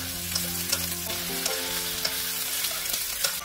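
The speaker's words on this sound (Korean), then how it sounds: "여기에 어묵을 넣어 30초간 볶아주세요." Fish cake with onion, chili and green onion stir-fries in a wok with oil, a steady loud sizzle broken by regular spatula scrapes and taps, close up and with no voices.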